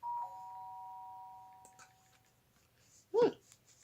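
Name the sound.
doorbell ringing in the video game Danganronpa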